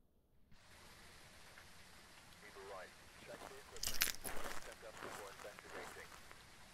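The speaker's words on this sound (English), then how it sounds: "this is heavy rain." Heavy rain falls in the video game Phasmophobia, with a steady broadband hiss of rain and a louder crackling stretch in the middle, while a person talks over it.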